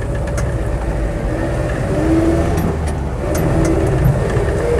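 Heard from inside while driving, a Land Rover Series III 88in truck cab engine drones steadily and fairly loudly, its pitch rising slightly as it accelerates. The engine is misfiring slightly because of a faulty advance-retard pipe.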